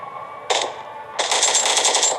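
Two bursts of rapid automatic gunfire in the game PUBG Mobile, a short one and then a longer rattling stream, crackle over a steady background hum.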